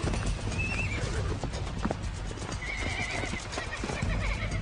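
Wild horses, mares whinnying loudly alongside clip-clopping hooves, the neighs rising in a couple of distinct calls over steady outdoor rumble.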